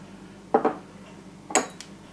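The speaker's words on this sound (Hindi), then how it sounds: "अदरक लहसुन का पेस्ट जा रहा है" Ginger garlic paste goes into a creamy chicken dish, marked by two brief pairs of spoon clinks against a metal pot or bowl, sharp and close in an otherwise quiet kitchen.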